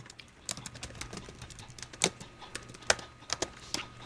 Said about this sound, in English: I hope you are enjoying the sounds of the keyboards.